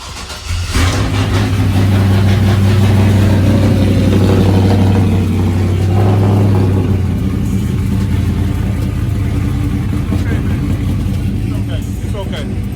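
A 1978 Chevrolet car engine revs loudly up close, a strong steady low roar with a rise and hold before easing back to a rougher idle, while someone talks over it.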